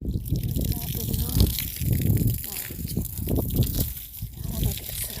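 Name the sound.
water splashing while washing a yard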